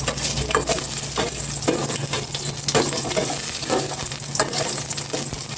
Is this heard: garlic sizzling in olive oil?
yes